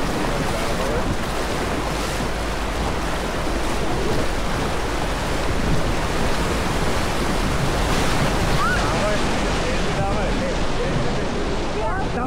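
River waves during rafting in Bulgaria make a continuous loud rush of churning water, with wind buffeting the microphone and faint voices blended into the roar.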